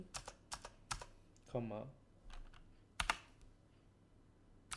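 Sparse keystrokes clatter on a computer keyboard, with irregular clusters of sharp clicks spread through the moment and a brief spoken word partway through.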